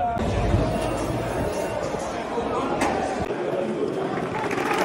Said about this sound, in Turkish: Arsenal fanları tezahürat ediyor şu anda